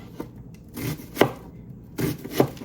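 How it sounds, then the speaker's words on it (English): A sharp kitchen knife chopping an onion on a board, a few distinct thuds in uneven pairs, close and clear with a faint rustle between cuts. "So we're just gonna cut the rest of the onion now"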